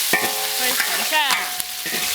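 Cooked pork tossed with chopped mugwort in a hot wok, a fast, close stir-fry of sizzling and scraping with squeaky, ringing strokes of the spatula against the metal.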